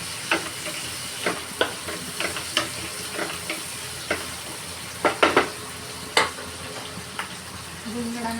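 Onions and tomatoes fry gently in a pan with a low steady sizzle, while a spoon scrapes and taps the pan in irregular strokes, close and fairly quiet.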